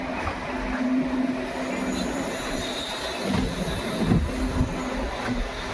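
ICF and LHB rail coaches passing one another on parallel tracks near Bikaner Junction, a rolling clatter of wheels with a steady hum and occasional screechy squeals, heard from onboard.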